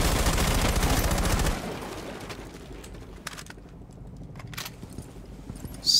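Gunfire in Rainbow Six Siege: a dense rapid burst of shots for about a second and a half, then quieter game ambience with a few scattered sharp clicks and impacts.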